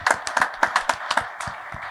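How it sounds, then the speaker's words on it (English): A small group in a room gives a short round of applause, sharp, distinct hand claps in quick succession that thin out and soften toward the end. "we could give you a round of applause"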